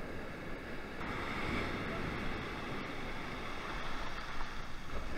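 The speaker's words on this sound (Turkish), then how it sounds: "Dalga geliyor, dalga." Black Sea waves wash against a small fishing boat out for bluefish, a continuous close rush of water and surf mixed with buffeting wind noise on the microphone.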